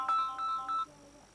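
A phone ringtone plays briefly, three short bright electronic tone bursts in quick succession, fairly clear and close, with no voices.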